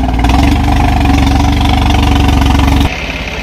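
A tractor engine runs steadily and loudly, driving a Chennai super seeder, with a throbbing low rumble that drops abruptly in level near the end.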